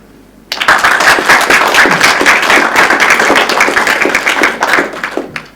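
A large audience claps loudly and steadily for a speaker at the close of a formal debate on theism. The dense applause starts abruptly, holds through the clip and begins to thin toward the end, with no talk.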